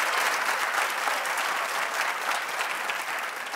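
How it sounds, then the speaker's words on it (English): Steady applause from a television talk-show studio audience, loud and unbroken for a few seconds with no speech over it. "Please don't clap too loud."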